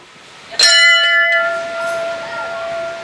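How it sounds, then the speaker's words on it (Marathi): A single metal bell at a Vitthal-Rukmini temple is struck and rings out clearly, its bright tone lingering and slowly fading, with a softer chime later. "हे घंटा वाजव हा"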